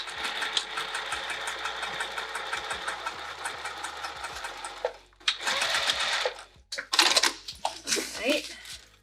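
A sewing machine stitches down a lining seam on a sling bag, a continuous buzzing run up close, then short stop-start bursts with clicks and handling noise between them.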